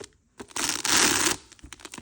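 A short, close rustle and metallic clinking of hardware on a fake Chanel Classic Flap handbag being opened, with a brief crinkly burst in the middle.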